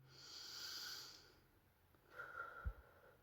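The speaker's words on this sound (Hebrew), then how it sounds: "ועוד נשימה" A deep breath drawn in and let out during a calming breathing exercise, a soft airy hiss followed by a brief pause and a second breathy rush ending in a faint snort, quiet and close.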